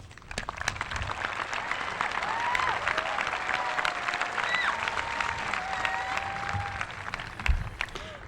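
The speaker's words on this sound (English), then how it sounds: "please help me recognize those individuals with a round of applause" At a class of 2000 commencement, the graduating class and crowd give a long, full round of applause for families and friends, a dense roar of clapping that swells and holds, with faint whistles threading through it.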